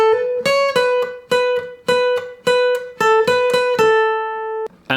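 Electric or acoustic guitar picking the second version of a pop song's riff, a bright run of single plucked notes in a bouncy rhythm that ends on one sustained note, played alone.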